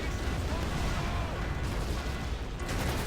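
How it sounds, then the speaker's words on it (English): A munition bunker blows up in the strategy game Rise of the Reds, a loud, dense rumble of continuous explosions and crackling blasts sustained throughout. "Munition bunker is destroyed. When it's destroyed, it explodes violently, which produces some violent explosion."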